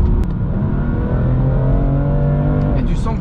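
BMW M2 Competition with 410 horsepower accelerating hard under paddle shifting, a loud sustained engine drone with rising harmonics, heard from inside the car while someone talks over it.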